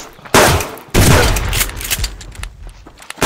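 Gunfire from the survival game Subsistence: two loud, close shots followed by a ragged series of smaller cracks and rattles that fade out.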